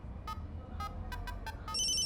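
A phone rings in short electronic bursts, about six quick ring pulses in a row followed by a sustained tone, clear over a faint low background hum with no talking.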